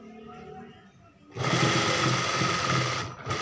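A sewing machine starts up and runs steadily, stitching piping onto a chiffon dupatta, a loud continuous whirring hum at close range.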